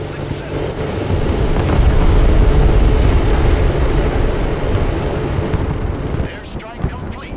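Airstrike explosions in a shooter video game roar as a loud, sustained, low rumbling barrage that swells and then fades into distant crackle, with game radio chatter underneath.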